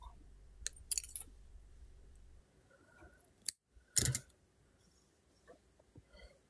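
Scissors snipping thread while a delicate braided ring is made, a few quiet, crisp close cuts spread apart with near silence between them.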